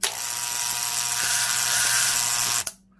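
A Powr-Kraft linear brushless finish sander runs with a loud, steady electric buzz like a shaver for about two and a half seconds, then cuts off abruptly with a brief rattle.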